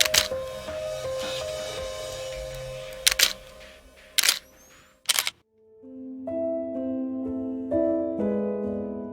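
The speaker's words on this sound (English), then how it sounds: "The lens was cracked, but the shutter still worked." A few sharp camera shutter clicks at irregular intervals over a noisy background, followed by quieter tonal sounds.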